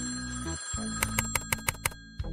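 In a horror video game, an old-style telephone bell rings in a quick series of sharp metallic trills over a low, droning ambient hum, without speech.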